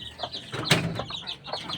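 Backyard chickens clucking softly in a short run of calls, with a louder squawk near the middle and lighter clucks around it, fairly close and steady.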